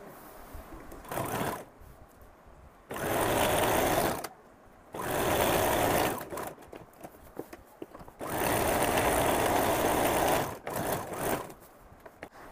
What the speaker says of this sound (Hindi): यहाँ पर हम फिटिंग की सिलाई लगा लेंगे